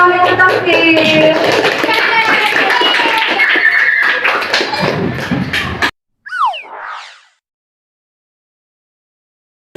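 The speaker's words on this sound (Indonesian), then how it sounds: "Tepuk tangan untuk kami" Classroom clapping as students applaud a group presentation, a loud patter of many hands mixed with children's voices for about six seconds, then a brief high squeal before silence.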